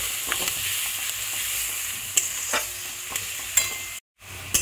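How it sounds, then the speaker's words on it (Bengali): Onion and garlic paste frying in hot oil in a pan for chicken curry, a steady bright sizzle broken by scraping stirs of a spoon, close and alone, with a brief dropout near the end. "পেঁয়াজ আর রসুনটাকে একটু ভাজা ভাজা করে নিতে হবে।"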